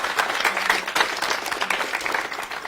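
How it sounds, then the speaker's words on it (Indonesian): An audience at a school theatre event at SMA Negeri 2 Amlapura in Bali claps in steady, continuous applause for a teacher, moderately loud and dense throughout. "Dikasih tepuk tangannya boleh buat Bapak."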